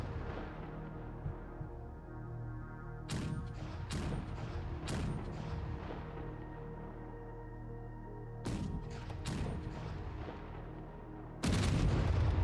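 Weapons fire in Space Engineers: heavy booming shots ring out in clusters of sharp blasts over a constant low mechanical drone, with a louder burst at the end.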